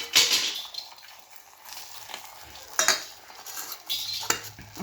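A utensil stirs and scrapes food around in a bowl, giving several quiet clinking, scraping strokes spaced through the moment with faint background noise and no talking.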